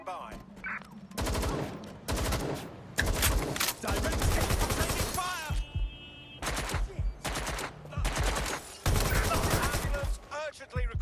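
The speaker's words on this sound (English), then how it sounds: "I'm taking fire." Gunfire in Watch Dogs Legion during a police shootout with an AK-47, loud repeated automatic bursts separated by short gaps, with other game sounds between volleys.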